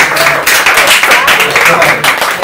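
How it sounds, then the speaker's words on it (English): A team meeting's round of applause for real estate agents, scattered claps from a small group running steadily beneath a man's continuing speech. "So a round of applause for everybody"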